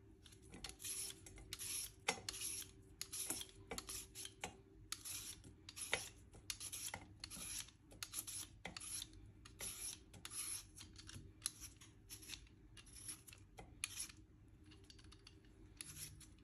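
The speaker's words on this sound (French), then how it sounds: "vous épluchez vos pommes de terre" Potatoes being peeled by hand for mashed potatoes, giving a steady run of short, dry scraping strokes in a quick, fairly even rhythm, close and moderately quiet, with no talking.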